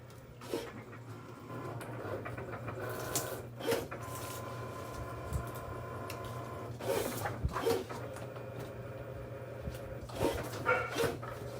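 Dogs bark in short bursts several times, fairly close, over a steady low hum in the background.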